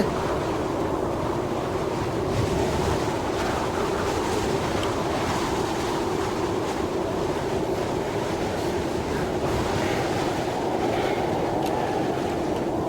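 Steady, loud wind roars across a snowy mountain landscape in the Kholat video game, a continuous broadband rush with no pauses and no voices.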